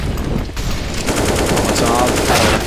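Rapid automatic gunfire from a CS:GO match during a FACEIT London 2018 Cloud9 versus Winstrike game, loud sustained bursts filling the clip, with a caster's voice talking excitedly over the shooting.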